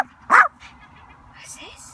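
A single short bark from Bella the dog on a holiday in Wales, close and sharp, followed by faint quieter sounds in the background.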